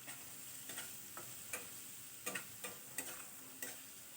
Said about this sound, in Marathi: आलं लसणाचं पेस्ट आहे, आलं लसूण आणि कोथिंबीर आहे, उग्रवाद जाईपर्यंत परतून घ्यायचं